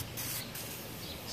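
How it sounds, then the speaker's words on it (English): WD40 hisses from a spray can onto tar stuck on a truck's body, a steady close-up spray lasting more than a second with no talking. "Spray it on there nice and good."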